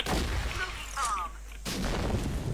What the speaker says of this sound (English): Smoking bomb.